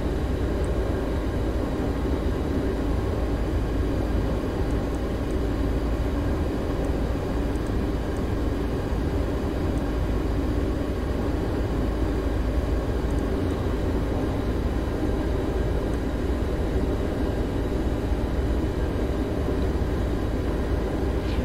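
A Boeing 737-800 in a flight simulator game flies its landing approach over the San Mateo Bridge toward runway 28 left, with a steady, even engine drone that stays the same loudness throughout and has no talk over it.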